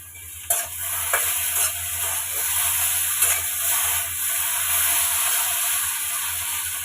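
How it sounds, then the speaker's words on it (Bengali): Okra fries in mustard oil in a pan, giving a steady, close sizzle with a few soft knocks and scrapes as it is stirred, with no talk. "ভেন্ডিটা একটু ভাজা ভাজা করে নিয়েছি"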